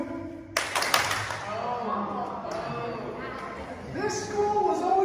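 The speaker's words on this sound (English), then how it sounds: "So, I usually count on the count of three and we clap." A group at a school DARE graduation ceremony claps together in unison, a sharp burst of applause that quickly gives way to crowd chatter and talking.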